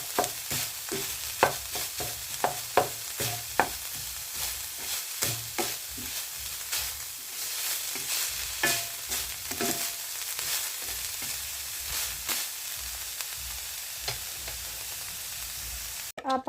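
Ground beef sautéing in a pan, a soft continuous sizzle broken by repeated sharp scraping and stirring taps from a utensil, close and fairly quiet.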